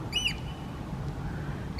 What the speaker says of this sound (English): with the oyster catchers and just the pigeons and the crows doing their fishing